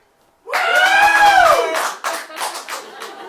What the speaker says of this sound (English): So on 3, you can start the applause